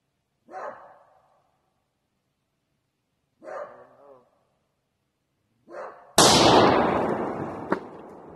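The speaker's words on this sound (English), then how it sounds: "We're going to shoot some slugs and some buckshot 27 pellets and one buckshot 9 pellet." A tactical escort shotgun fires slugs and buckshot: two short, sharp reports a few seconds apart, then a third shot followed by a long, loud, noisy rumble, all without talk.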